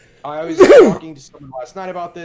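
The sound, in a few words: sneeze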